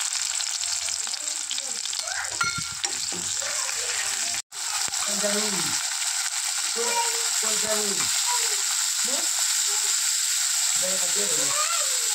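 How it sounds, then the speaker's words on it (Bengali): Chopped onions hit hot oil in a home kitchen pan, a steady broadband frying sizzle running through the whole stretch, with a brief cutout midway and a voice talking over it in bursts. "একই তেলে দিয়ে দেব পেঁয়াজ কুচি"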